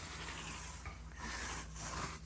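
A soft-tipped brush rubs dressing into a tire with heavy treads, giving a close, continuous soft scrubbing rasp with slight brief pauses, heard alone.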